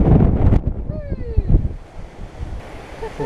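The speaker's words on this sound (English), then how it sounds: "hot and windy, weird" Strong, hot wind buffets the microphone on a climbing route, a loud rushing roar that eases and gusts again over a few seconds while a person speaks briefly.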